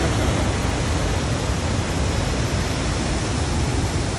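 Waterfall pouring steadily, a dense broadband rushing roar that stays even and continuous, loud and close with no voices.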